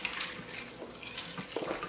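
Water being stirred inside an Instant Pot while making chicken Alfredo, a soft, steady sloshing and swirling with faint splashy trickles, close by and moderately quiet.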